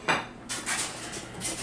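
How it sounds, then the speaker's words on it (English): Dishes and cutlery clatter at a home dishwasher, with a sharp clink near the start and then a run of scraping and rattling as items are handled close by. "I'm going to the dishwasher."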